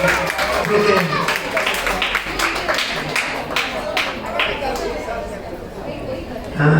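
Applause breaks out for Vishakha at a community gathering, dense clapping and crowd chatter spread across several seconds with a voice talking over it.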